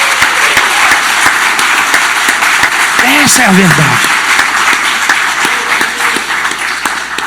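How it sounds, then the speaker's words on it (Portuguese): Church congregation applauding at a Bible school service, a broad steady wash of clapping that runs the whole length, with a voice speaking briefly over it partway through. "Aquele que crê, dá um aplauso ao Senhor em nome de Jesus."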